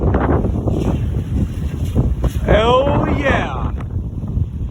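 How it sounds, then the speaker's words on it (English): Strong windstorm gusts in Reynoldsburg, Ohio: a loud, continuous roar of wind buffeting the microphone, with someone talking excitedly over it. "this is the wind"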